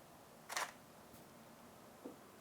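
A single-lens reflex camera fires its shutter at 1/200 second for an indoor macro shot. One crisp click stands out in a quiet room, followed by a faint second tick and another sharp click at the very end.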